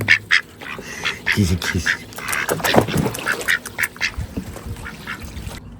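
Several ducks quack repeatedly in a busy, overlapping outdoor chorus, close and fairly loud, while a person speaks briefly among the calls.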